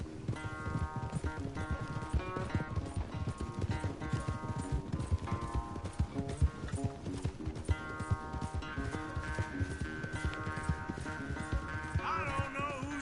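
Rhythmic hoofbeats of galloping horses in a race in Red Dead Redemption 2 pound steadily under upbeat game music, with a whinny-like tone rising near the end.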